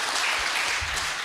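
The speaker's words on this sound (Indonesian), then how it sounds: "Tepuk tangan boleh" An audience at a government minister's speech on food self-sufficiency gives a brief, dense burst of applause, steady and fairly loud throughout.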